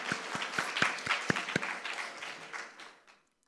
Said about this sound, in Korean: 다시 한번 큰 박수 주시기 바랍니다